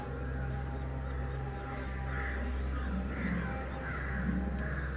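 Birds call at 5 a.m. dawn around a monastery, raspy crow-like caws repeating over a steady low background hum, moderately near.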